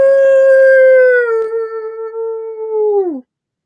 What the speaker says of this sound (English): I hear the howling